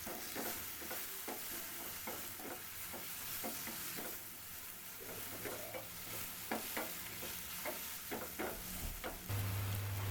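Onion and tomato fry in a pan for a masala omelette, a steady close sizzle broken by repeated scraping and stirring strokes of a spatula. No one speaks.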